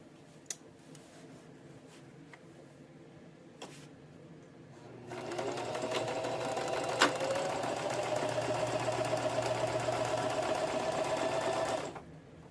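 A sewing machine stitches a stocking liner: after a few faint clicks, the motor kicks in with a steady, fast whirring hum for several seconds before stopping abruptly.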